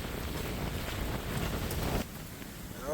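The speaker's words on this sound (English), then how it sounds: "Ooh, that wind is strong." Strong wind gusts across a dirt road walk through a campground, a loud, continuous roaring rush buffeting the microphone, easing slightly near the end.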